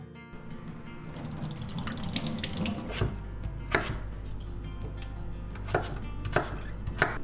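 Repeated knife chops on a cutting board while peeling and chopping potatoes, with sharp thuds in clusters, as water runs steadily from a tap in the background.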